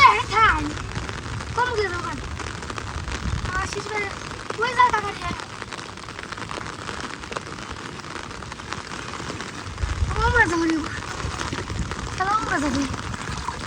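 Rain patters steadily on a surface throughout while people talk over it.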